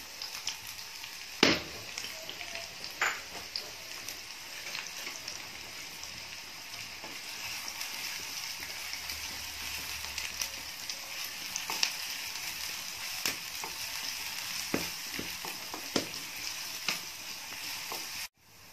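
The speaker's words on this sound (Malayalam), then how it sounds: "ഇപ്പോൾ നമ്മുടെ ചുവന്നുള്ളിയൊക്കെ നന്നായി മൂത്തുണ്ട്." Chopped shallots frying in oil for a medicinal rice porridge, a continuous crackling sizzle with scattered pops and occasional stirring clicks, fairly quiet and steady with no talking.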